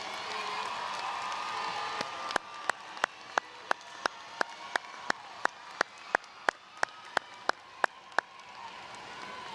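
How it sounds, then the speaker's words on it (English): Audience applause at a high school graduation ceremony as parents and guardians stand, a broad sustained wash of clapping from a large crowd, with a regular series of sharp, loud clicks punctuating it about every third of a second. "Let's all give them a round of applause."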